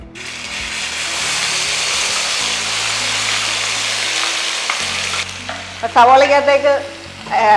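Ground, pre-cooked onion paste from one large onion drops into hot oil and bursts into a loud, steady sizzle that crackles on for several seconds before easing off, with a brief voice near the end.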